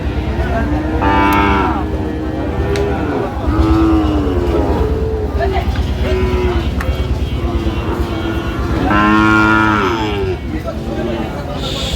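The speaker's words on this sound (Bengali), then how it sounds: "ষাঁড় আমরা দেখছিলাম এখানে" Deep, drawn-out lowing of Sahiwal bulls at a cattle market in Netrokona, several long calls rising and falling close by, over a rumbling engine-like background.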